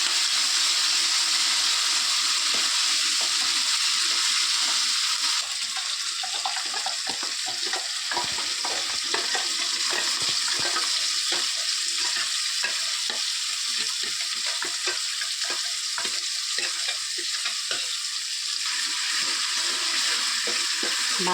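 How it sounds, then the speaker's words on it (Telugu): Ginger paste and other ingredients for tomato rasam fry in a pan, giving a steady, close hiss of sizzling broken by scraping stir strokes throughout, with no talking. "ఇది కూడా పచ్చి వాసన పోయేదాకా వేగాలి."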